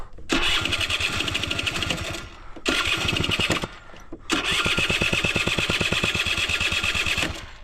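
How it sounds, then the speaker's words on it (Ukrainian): Electric starter cranking an old Honda Tact moped engine, a loud rapid whirring churn in three long bursts separated by brief pauses, without catching. "Зараз спробуємо стартером."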